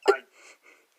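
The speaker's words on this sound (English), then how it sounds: "I got the hiccups now." A single sharp hiccup close to the microphone, followed by a couple of faint breathy sounds.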